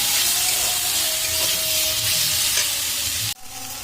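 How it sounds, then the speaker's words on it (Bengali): Drumstick and other mixed vegetables fry loudly in a pan with a dense, continuous sizzle and hiss and faint stirring, which drops away abruptly near the end. "আমার কিন্তু সবজিগুলো তো ভালো করে ভাজা হয়ে গেছে একসাথে সব কিছু।"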